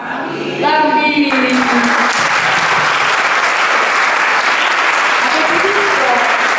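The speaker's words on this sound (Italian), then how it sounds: "un qualche applauso lo rivolgiamo a tutti" A concert audience at a Christmas concert applauds the children, steady dense clapping rising after a brief opening of voices and then filling the room loudly to the end.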